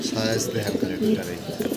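A male fancy pigeon coos nearby in low repeated throaty calls, heard under someone speaking.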